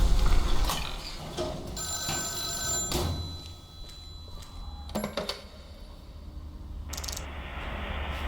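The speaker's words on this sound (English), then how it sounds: "Okay, the phone is ringing again." Old telephone bell ringing in the dark puzzle game Deep Sleep, a few bursts of metallic ringing separated by short pauses, among mechanical clicks and ratcheting, with no talk.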